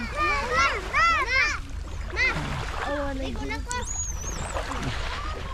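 Children bathe in the sea, with high excited shrieks and calls, chatter and scattered splashes of water close by, loudest in the first two seconds.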